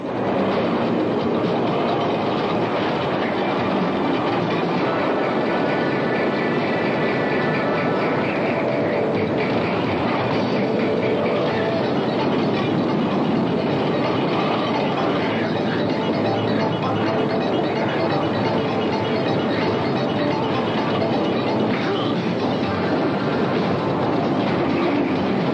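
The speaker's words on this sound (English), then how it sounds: "The movie has absolutely sensational stunts like this one on top of an elevated train." An elevated train rumbles along steadily during a stunt sequence in the 1986 film Code of Silence, a loud, continuous roar of wheels and rattling cars with rhythmic clickety-clack, with no voices.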